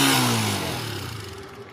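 A Honda TMX 125 Alpha motorcycle engine, just repaired of its misfire, revving up and then settling, loud and close at first and then tapering off, with no talk.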